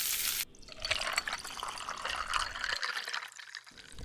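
Leftover water from a blender is poured into chicken curry cooking over medium heat, a soft splashing trickle lasting a few seconds after a brief louder start, then fading to quiet.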